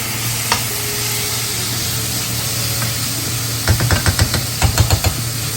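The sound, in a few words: honey added to hot pan with paneer, sizzling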